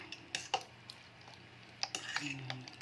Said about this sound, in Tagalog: Ihalo ang itlog at ang hotdog.